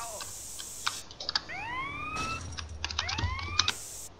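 A police siren in the video game GTA San Andreas, rising and falling wails repeat in two bursts over a low engine rumble, loud and close with scattered clicks in between.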